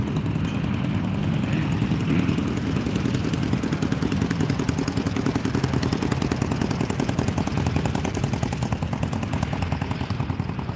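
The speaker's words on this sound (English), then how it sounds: "What kind of bikes were those?" Loud, rapid rattling roar of sport motorcycles passing close by on a street in Beverly Hills, a continuous dense engine burr filling the whole stretch without talk.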